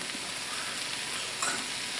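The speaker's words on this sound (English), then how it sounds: "Rice is boiling. Gonna stir it once, just so it doesn't stick on the bottom." Boiling rice in a cooking pot stirred once, a steady bubbling hiss with a brief scrape of the spoon, close and moderately quiet.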